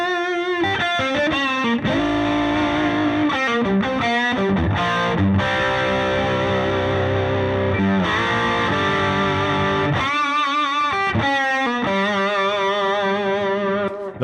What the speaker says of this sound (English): a lot of times my favorite setting is the lead channel with the OTS on it.